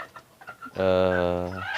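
A free-range village chicken lets out a sudden, loud drawn-out squawk near the microphone after a few faint, scattered clucks.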